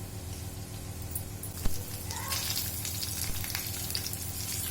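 Chana dal and Byadgi chillies fry in a little oil for a chutney to go with dosa, making a gentle steady sizzle with faint running water and a brief clatter in the background.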